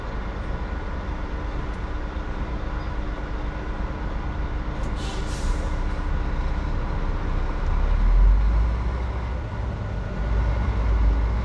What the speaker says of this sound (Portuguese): deve ser outro caminhão